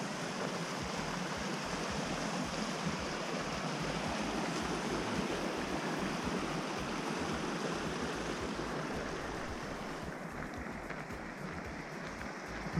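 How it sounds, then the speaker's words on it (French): A small mountain torrent beside a trail in the Valais Alps rushes steadily and loudly. The broadband flow is constant and close, with no pauses and no voices. "Petit torrent sympathique."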